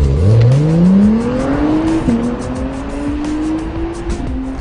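A Honda car on Pirelli Trofeo R tyres is driven hard around an otherwise empty race track, its engine climbing steeply in pitch under acceleration, changing gear, then holding a loud, steady howl close by, with no talking.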